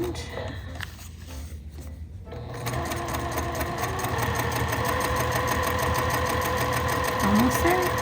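A sewing machine stitches fabric continuously, a close rapid mechanical whirr that starts after a brief quieter stretch with some handling noise, then runs steadily to the end.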